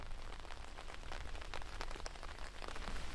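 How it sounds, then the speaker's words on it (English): Soft, dense patter of rain falling on a Durston X-Mid 2P tent at night, a steady hiss of scattered drops with no voices. "Now it's starting to rain, so that will make the condensation test even better."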